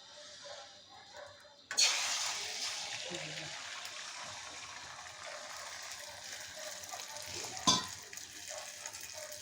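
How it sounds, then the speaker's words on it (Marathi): Eggs frying in a pan, scrambled bhurji-style with masala: a sizzle erupts suddenly after a quiet moment and settles into a continuous hissing fry with stirring scrapes, and a brief louder flare near the end. "ती तिच्यासाठी अंडं बनवते"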